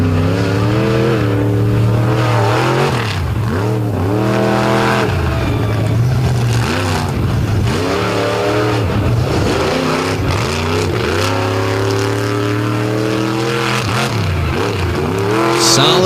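A racing truck engine roars loudly on a race course, its pitch climbing repeatedly through gear changes as it accelerates through the corners and legs of a timed run, with a continuous close engine drone throughout.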